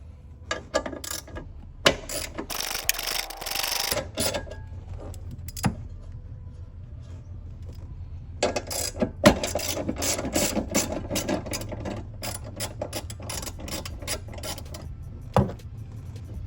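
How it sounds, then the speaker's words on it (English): A socket ratchet clicks in short bursts while a 13 mm socket loosens the battery hold-down block on a 2015 Chevrolet Camaro SS, close up, with clanks and pauses between runs of rapid pawl clicking. "And those can be taken off with a 13mm socket."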